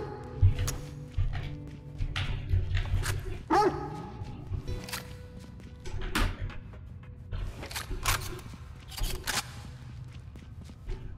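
A dog in the video game Necromunda: Hired Gun barks repeatedly in short, sharp bursts, some near and loud, scattered among gunfire-like cracks and game noise.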